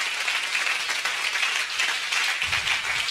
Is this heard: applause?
yes